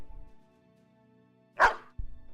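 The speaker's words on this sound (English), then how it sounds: "Give the dog back to Tootsie, I think." A single sharp dog bark from the card game The Bazaar rings out once near the end of an otherwise quiet stretch, followed by a low thud.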